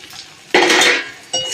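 Vegetables including papaya, carrot and beans being stirred in a cooking pot, two loud scraping, clattering bursts of a metal spoon against the pot separated by a short pause, close by and with no voices.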